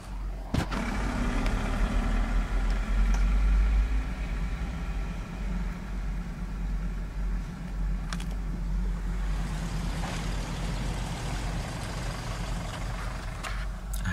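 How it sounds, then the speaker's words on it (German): A car passing on a road, a steady low engine rumble with a brief louder swell early on, then continuing traffic and vehicle hum with a few sharp knocks, moderately near and without talk. "schicke Karre, die hier gerade vorbeigefahren ist"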